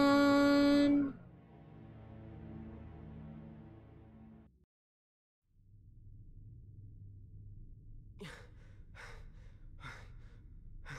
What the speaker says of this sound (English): Stop breathing so heavily!